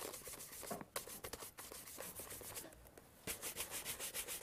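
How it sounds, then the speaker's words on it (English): Sandpaper rubbing over a leather shoe after cream polish has dried, heard as close, steady scraping strokes repeated in a brisk back-and-forth rhythm with short pauses between passes. "Sandpaper."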